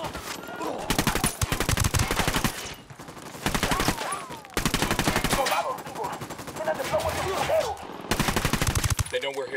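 Video-game gunfire during a checkpoint firefight, long bursts of rapid automatic fire in several loud rattling volleys with brief pauses, a voice heard faintly among the shots.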